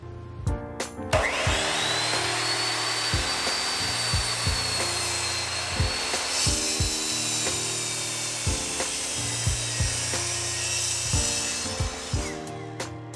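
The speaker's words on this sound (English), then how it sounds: "With a scroll blade and my jigsaw, I'm going to cut out the entire piece" Jigsaw fitted with a scroll blade cutting through a wooden board, a steady loud buzzing whine running continuously for most of the clip with rhythmic low pulses and brief pauses, close and without speech.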